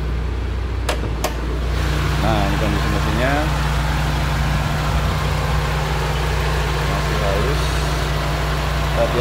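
A 1994 Honda Civic Genio engine idles with a steady low hum and hiss throughout, close by, while someone talks briefly over it after a couple of sharp clicks at the start.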